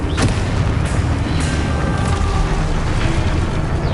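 The Confringo explosion spell in the video game Hogwarts Legacy, a dense rumbling blast of booms and thuds that fills the whole stretch loudly, with no talking.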